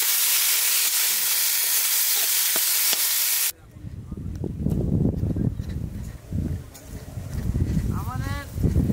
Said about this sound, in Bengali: লবণ, টমেটো, ধনে পাতা, একসঙ্গে কষাবো মশলা দিয়েছি।